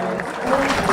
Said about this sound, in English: applause for Amy and her team